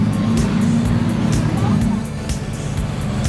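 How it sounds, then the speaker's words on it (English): GT3 racing cars rumbling along public town roads in a parade before the 24 Hours of Spa, a loud, continuous low engine drone with crowd noise around it and people talking over it. "it's a rare chance to see a fully blown GT3 monster out on the public roads"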